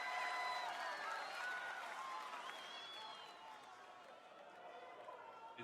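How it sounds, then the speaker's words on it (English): A wrestling arena crowd at WWE SmackDown cheers and claps in a broad, distant roar that slowly eases off, with a voice talking over it. "The crowd went wild."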